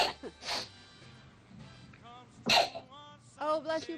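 A person sneezes amid short throat-clearing and snorting bursts, several abrupt explosive blasts close by, with brief vocal sounds between them.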